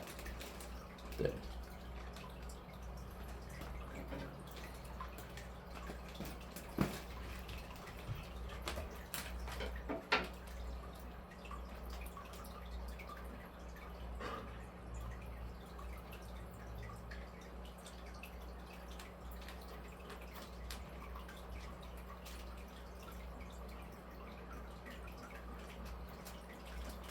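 Water drips sparsely from a fish bag as aquarium tank water is added, a few faint isolated drops and taps against quiet steady room hum.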